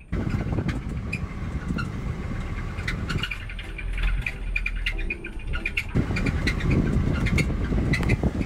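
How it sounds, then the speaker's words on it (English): A truck engine strains while the driver maneuvers a car-hauler loaded with stacked cars close to a rail; a continuous rumbling drone that eases briefly in the middle, then swells louder again. "the more strain I put the engine under, the worse it is"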